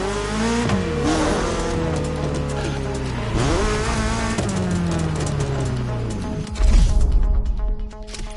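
Bugatti and Koenigsegg Jesko hypercars race through downtown in The Crew Motorfest, engines roaring loudly with shifting pitch, repeated gear changes and revving, then a burst of tire noise near the end.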